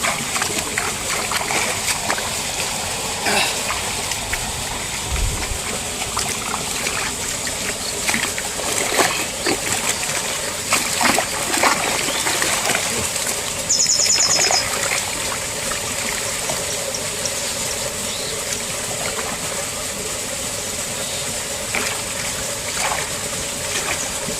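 Irrigation water runs through a cut channel into a farm field where pointed gourd grows, a steady close trickling and splashing flow with faint occasional knocks and no talk.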